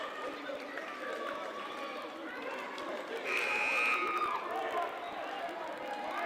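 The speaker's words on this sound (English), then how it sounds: "You can hear the cheerleaders from the Bearcats getting excited." Bearcats cheerleaders chanting and yelling at a high school basketball playoff game, a steady crowd roar in a gym with voices rising and swelling midway, fairly distant and continuous.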